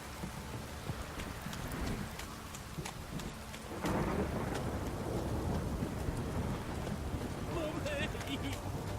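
Heavy rain pours steadily while low rumbles of thunder roll underneath in The Witcher 3: Wild Hunt, the downpour swelling louder partway through.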